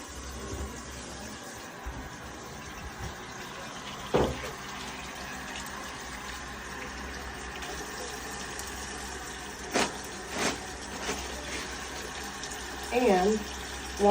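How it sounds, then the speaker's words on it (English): A tap runs softly and steadily while hands are washed during a physical examination, with occasional louder knocks and splashes and a short bit of speech near the end. "I'm going to wash my hands"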